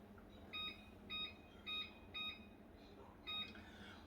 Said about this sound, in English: I'm going to put the timer on